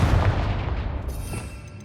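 Confringo fire spell from Hogwarts Legacy bursts in a loud, booming blast that rumbles and decays over about two seconds, alone without speech.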